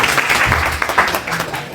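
Audience applause at a community talk on social media for youth, dense clapping from a crowd heard fairly close and loud, continuous for the short stretch with some voices mixed in.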